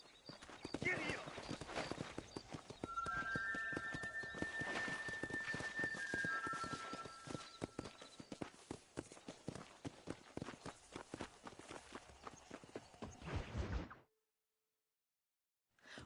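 Horse hooves in Red Dead Redemption, a rapid and steady clip-clop with brief tonal game sounds over it, ending abruptly in silence before a short burst at the very end.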